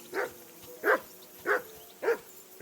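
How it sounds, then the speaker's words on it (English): A dog barks in the video game Kingdom Come Deliverance 2, five evenly spaced barks at moderate distance with no one talking. "Henry, that barking's driving me nuts. Can you get your dog to shut its beak?"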